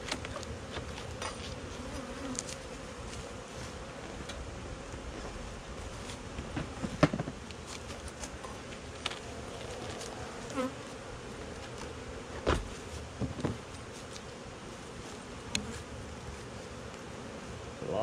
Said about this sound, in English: A lot of bees right there.